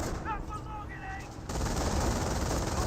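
A .30 cal machine gun in the Company of Heroes video game fires short bursts, answered by a sudden burst of dense, sustained gunfire that rises in loudness halfway through.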